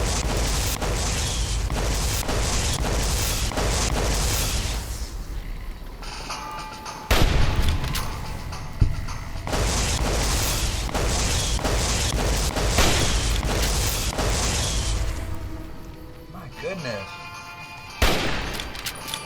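Sustained, dense gunfire from shooting at a tough creature in Fallout: New Vegas, with rapid shots and booms nearly continuous through the stretch, under intermittent talk.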